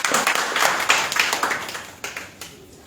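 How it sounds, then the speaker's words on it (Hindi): An audience claps for a speaker at a full-day workshop with a short burst of close, crisp, uneven applause that tapers off after a couple of seconds. "सर के लिए जोरदार ताली।"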